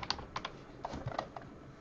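Quick typing on a computer keyboard, a short burst of light, irregular key clicks, close and quiet.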